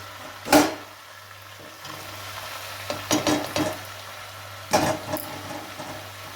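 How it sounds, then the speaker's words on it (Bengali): Boiled peas drop into a hot kadai and are stirred, giving a few short sizzling scrapes and splashes over a quiet background hiss. "এবার এই সেদ্ধ করা মটরটি কড়াতে দিয়ে দেবো"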